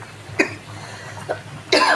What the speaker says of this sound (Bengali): খুব ঝাল লেগেছে জানো তো, কাশি হচ্ছে।